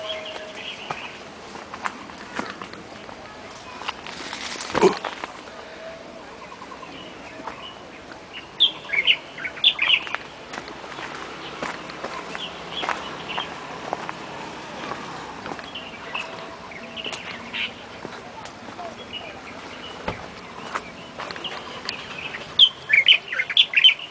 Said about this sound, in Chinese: 鸟叫声呢？